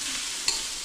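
Food being sautéed in a pan, giving a brief, steady sizzle with a small clink midway, with no one talking over it.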